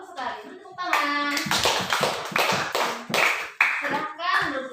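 Schoolchildren in a classroom clap together, a quick uneven burst of hand claps with children's voices chattering and calling over and between the claps.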